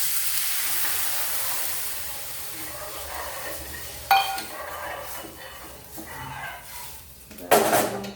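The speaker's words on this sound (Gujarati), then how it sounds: "સોજી શેકી દઈશું। કોરું જ સોજી શેકવાનું છે।" Semolina is dry-roasted in a pan with no oil for upma, giving a faint soft hiss and scraping as it is stirred, with two sharp utensil clinks against the pan.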